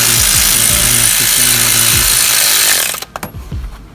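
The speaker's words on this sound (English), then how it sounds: "So loosen it once, and then tighten it again" A power tool loosening and tightening a bolt on off-road exhaust headers for a 2015-2017 Mustang GT, a loud sustained whirring drive with rhythmic pulsing that cuts off near the end into a few sharp clanks.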